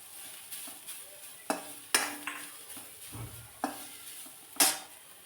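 Grated coconut is roasted in a pan and stirred with a spatula, giving a soft background hiss broken by several sharp scraping clicks and clinks of utensil against the pan, with no talk.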